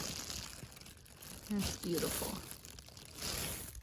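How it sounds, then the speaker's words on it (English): A plastic bag covering a straw-filled phoenix oyster mushroom grow bag crinkles and rustles close by in uneven bursts, under a person speaking. "Sorry about the noise from the plastic bag."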